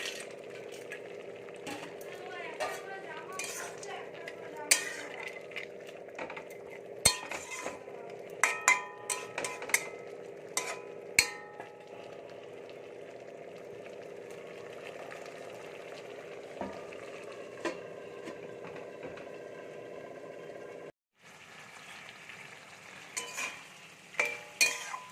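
A spatula stirs fried fish and lentil dumplings through vegetables and bottle gourd greens in a cooking pan, with close scraping clicks and knocks over a soft, constant sizzle that briefly cuts out near the end.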